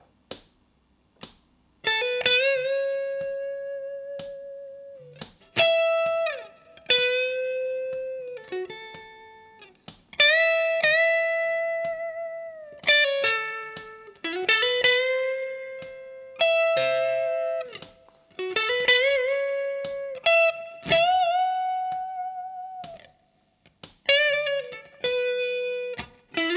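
An electric guitar plays a slow, bluesy solo phrase with bent and sustained notes separated by short pauses, alone and up close.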